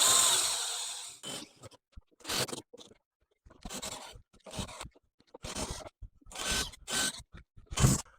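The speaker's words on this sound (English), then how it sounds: "So with this, you just got to take your time and look for the spot welds and just carefully drill them out." Drilling out spot welds on a Vauxhall Nova Turbo's cracked flitch and inner wing panel with a 6mm spot weld drill: short, close bursts of whirring bite, about eight separate passes with brief pauses between.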